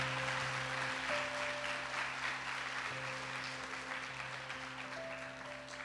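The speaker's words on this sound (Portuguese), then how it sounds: "Você pode aplaudir ao Senhor?" A church congregation applauds, sustained clapping of moderate loudness running the whole time over held organ or keyboard chords, with a few faint voices underneath.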